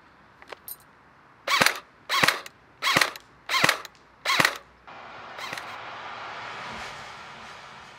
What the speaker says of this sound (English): here is one reassembled MP5, which is now working, and I will prove that with some footage I shot in Wales